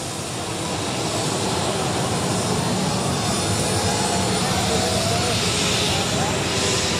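An aircraft turns on the airport apron after landing, a loud, steady engine roar that fills the whole stretch, with a voice talking over it.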